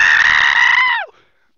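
A single sustained, shrill screech made by a human voice imitating the R2-D2 droid, held loudly for about a second before sliding down in pitch and cutting off abruptly.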